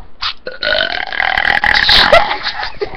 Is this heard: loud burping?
yes